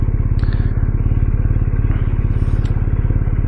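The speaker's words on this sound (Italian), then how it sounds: "bellissimo il Boxer comunque, come sound è molto buono" A BMW R 1250 RS boxer-engine motorcycle runs close by with a steady, loud, rapid throbbing pulse throughout, no voices.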